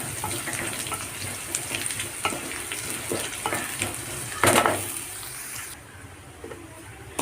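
Urad dal sizzling in hot oil after popping mustard seeds, a close steady frying crackle with scattered pops and stirring clatter, one louder burst, then the sizzle drops quieter near the end.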